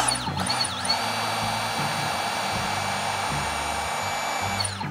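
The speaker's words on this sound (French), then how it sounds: "on commence d'abord par dévisser notre vis." A screw is backed out of a hammer-in wall anchor, with a steady, loud, high-pitched motor whine running almost unbroken for about five seconds and no speech.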